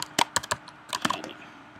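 Bursts of crisp clicking come from typing on a computer keyboard, with several quick close keystrokes in two short runs and nobody speaking.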